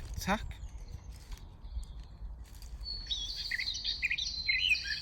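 A blackcap sings a fast, warbling, scratchy song, fairly close, over faint outdoor background noise.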